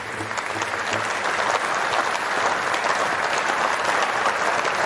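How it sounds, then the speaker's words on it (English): An audience bursts into sustained applause as a guest is introduced at a special event, a thick, even wash of clapping with faint crowd murmur holding steady throughout. "The audience couldn't withhold their applause."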